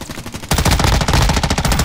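Rapid automatic gunfire in the video game Warzone 2 from an M13 assault rifle, a loud, close burst of evenly spaced shots that starts abruptly and keeps going without talk.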